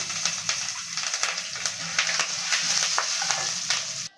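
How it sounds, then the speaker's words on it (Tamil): Chillies, turmeric powder and curry leaves hit hot oil in a pan for mor kali, a close, busy sizzle full of sharp crackles and pops that runs steadily for a few seconds without speech. "இப்போ நம்ம மிளகாயை போட்டுடலாம் இதில் கொஞ்சமாக மஞ்சள் தூள் போட்டுக்கலாம் கருவேப்பிலை வச்சுருக்கோம் அதையும் போட்டுக்கலாம்"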